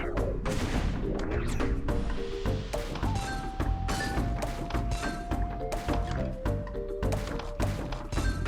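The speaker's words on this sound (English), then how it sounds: "especially with that explosion, when you do a multi-lane explosion" Explosions and ball pops in the video game Zuma's Revenge, with repeated sharp thumps and bursts over a steady electronic tone and game music, loud and continuous throughout.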